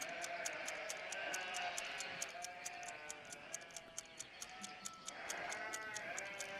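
Cartoon sheep bleat repeatedly in a layered, overlapping chorus, with steady ticking clicks running through the background.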